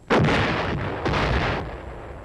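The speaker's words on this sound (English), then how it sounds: "And so, a howitzer lets one go." A howitzer fires a single artillery shot at a machine-gun target on a hill: a sharp, loud boom at once followed by a long rolling rumble and a second echoing crack that slowly decays.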